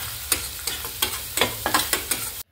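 A spatula scrapes and knocks against a sizzling pan in quick irregular strokes, close up, with onions and spices frying underneath.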